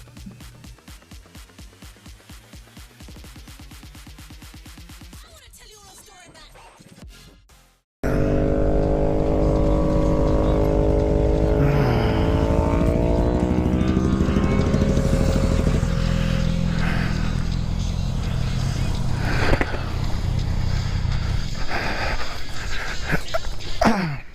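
A motorcycle engine after the rider lost control in a bend and went down: a steady, rhythmic idle gives way after a brief dropout to loud, sustained revving with rising and falling pitch.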